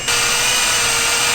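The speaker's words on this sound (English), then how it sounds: "just drilling into the camshaft on the table" Power drill boring into a Porsche 964 camshaft resting on a table, a steady high-pitched whine with broadband grinding noise, loud and close, running continuously with no voices.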